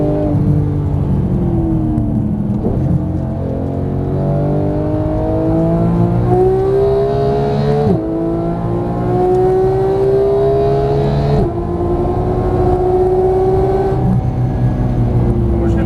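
A Porsche GT3 revs hard on a race track, engine pitch climbing in long rising sweeps that drop briefly at each gear change or braking point, loud and close throughout with an instructor talking over it.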